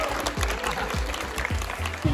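At the Australian Nationals 2023 Rubik's Cube Championship, a crowd applauds and cheers, with scattered clapping, low thuds and a brief cry near the end amid nearby talk.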